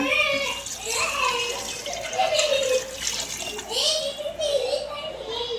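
Water pours steadily into a pot for chicken biryani beneath continuous talking, a hissy splashing stream running the whole time.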